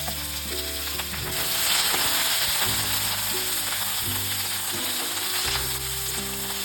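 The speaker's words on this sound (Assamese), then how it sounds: "কুমলীয়া লাওৰ বাকলিটো ল'ব, অলপ টাইম ফ্ৰাই কৰি ল'ব" Bottle gourd peel fries in a pan, a continuous loud sizzle over repeated stirring scrapes and clatters of the utensil against the pan, heard close up with no talk.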